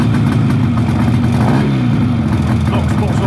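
A 1962 Greeves 25DC Sports Twin 250cc motorcycle engine runs with a dense, buzzing two-stroke drone, its pitch shifting as it revs up midway, loud and close throughout under a voice talking.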